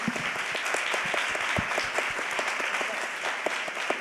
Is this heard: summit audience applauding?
yes